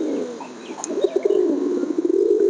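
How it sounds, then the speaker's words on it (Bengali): Yellow Lahori pigeons coo at a pigeon farm, a low, soft burbling murmur that rolls on steadily and close through the whole stretch, with no talk over it. "আজকে টপ 5 জোড়া কবুতর আমি আপনাদেরকে দেখাবো।"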